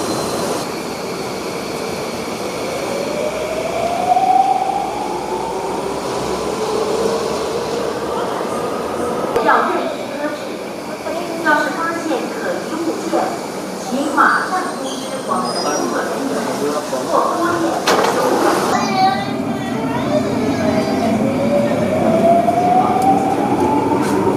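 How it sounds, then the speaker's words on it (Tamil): A Singapore MRT Downtown Line metro train pulls into an underground station, its rising electric whine and rumbling wheels building, then hissing doors and chimes; station announcements and people talking are heard through the platform noise. "ஸோ எம்ஆர்டி வந்துச்சு. நம்ம அடுத்த ட்ரெயினில் போவோம்."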